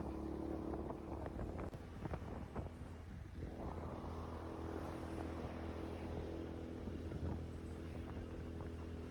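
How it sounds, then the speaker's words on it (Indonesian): A Honda Astrea Prima motorcycle engine labours uphill in first gear, a steady, strained drone with wind rush running throughout, fairly faint and without talk. "Tapi gue bawa motor yang ngap-ngapan ini. Ini gigi 1 ini."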